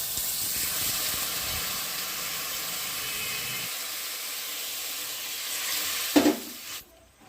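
Fried spice masala hisses steadily in a hot pan, then a short louder burst of sizzle and steam flares as hot water is poured in near the end, fading quickly afterward.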